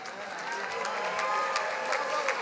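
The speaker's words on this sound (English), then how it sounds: "Let's give a round of applause to the Executive Master of Health Administration graduates" Audience applause for graduates at the 2018 USC Price commencement ceremony, a broad, even wash of clapping heard from a distance, soft but steady throughout with faint crowd murmur.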